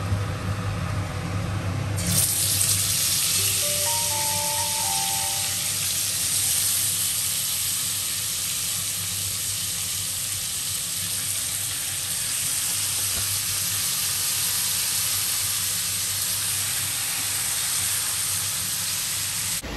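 Marinated chicken with black pepper, white oil, salt and lime juice sizzling loudly in a hot pan, a sudden burst of steady frying hiss that carries on without a break.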